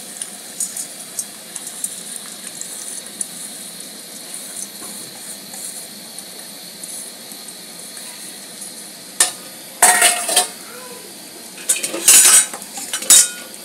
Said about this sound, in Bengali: এই ডালটাকে দিয়েও পেঁয়াজের সঙ্গে একটুখানি নেড়ে দেবো তেলের মধ্যে